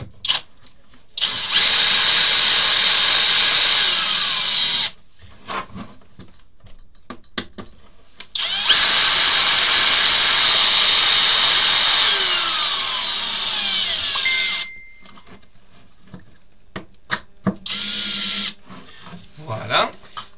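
A power screwdriver drives a screw into an RC car body in two long, loud, whining bursts, the second running a bit longer, separated by quiet handling noises, with someone speaking French in the gaps.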